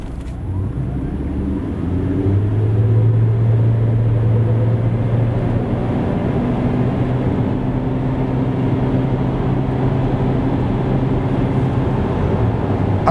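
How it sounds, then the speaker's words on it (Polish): A Geely Starray EM-i 2026 plug-in hybrid's 1.5 engine drones steadily and rises in pitch as it accelerates from 0 to 100 km/h, heard from inside with road rumble underneath. "samochód tak przyspiesza od 0 do setki"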